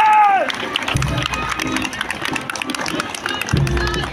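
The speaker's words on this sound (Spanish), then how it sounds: "Fuerte el aplauso para el Colegio Militar Mariano Ignacio Prado." Crowd applause and cheering for a military school escort at a school escort competition in Huánuco, busy and mid-distance, with shouts and rhythmic thumps mixed in.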